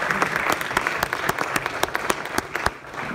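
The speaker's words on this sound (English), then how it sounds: "Let's give a round of applause." Applause from a concert audience for a university jazz ensemble, a short burst of fairly close clapping with distinct individual claps popping out of the crowd.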